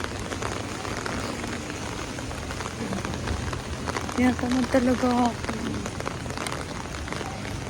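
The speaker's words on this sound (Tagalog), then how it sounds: "Kasi nga, umuulan." Steady rain falls during a typhoon, a dense even wash of drops throughout, with a person talking quietly over it.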